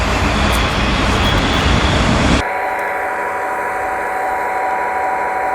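A real train rumbles past nearby as a loud, broadband roar that cuts off abruptly, leaving a quieter steady hum with faint tones.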